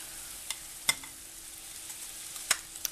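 Crab and shrimp stir-fry in a curry pan with a soft, steady sizzle, broken by a few sharp clicks and scrapes of a utensil against the pan.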